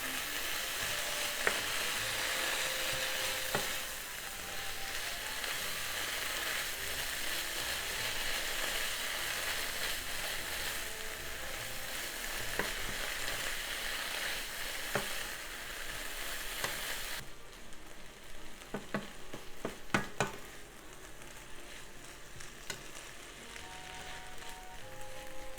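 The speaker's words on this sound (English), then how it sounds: "And just stir fry it until the bell pepper is wilted." Tuna and bell peppers stir-frying in oil in a pan give a steady, close sizzle with occasional stirring scrapes and clicks, lasting throughout and easing slightly toward the end, with no talking.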